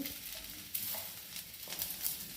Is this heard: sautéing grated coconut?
yes